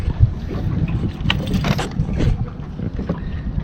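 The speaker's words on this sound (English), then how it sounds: "it's a little windy" Wind gusts buffet the microphone outdoors, a rough low rumble with brief flaring bursts, steady and fairly loud throughout.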